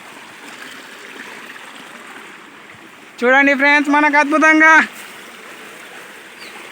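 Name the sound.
waterfall and flowing stream water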